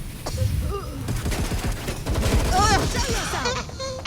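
Gunfire during a police shootout in Watch Dogs: Legion, with steady bursts of shots and rattling automatic fire over game effects while officers shout through radio-style voices.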